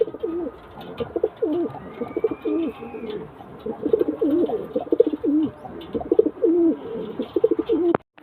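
Pigeons coo steadily in soft, throaty rolling phrases, several birds close by with a brief chirp, no talking.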